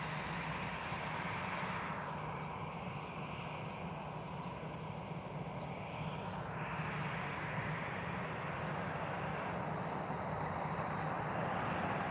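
An airplane lands at Lisbon Airport in the evening, heard from a distance as a steady broad engine roar that holds for the whole stretch, with no talking.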